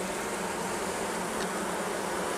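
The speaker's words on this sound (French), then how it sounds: "Il y a une abeille qui est en train de naître." A honeybee emerging from its brood cell in a hive buzzes steadily and continuously at close range, a dense even drone with no talk over it.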